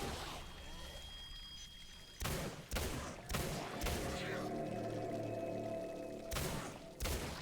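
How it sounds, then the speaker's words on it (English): Gunfire from shooting enemies in the game Singularity: about six sharp, loud shots in irregular bursts, each with a short echoing tail over low humming ambience, with no talk. "I kind of feel like it's better if I just shoot them."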